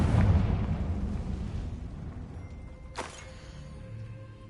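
Confringo fire-blast spell exploding in Hogwarts Legacy: a rumbling blast fades away over the first seconds, then a single sharp crack lands near the end, at moderate volume with no talking.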